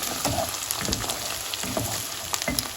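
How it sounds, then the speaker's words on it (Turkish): Onions and tomato paste sizzling in a pan as they are sautéed for a Turkish meat and dried bean stew, a steady close crackle with repeated soft stirring scrapes and no talking. "Salçamızın kokusu çıkana kadar güzelce kavuruyoruz"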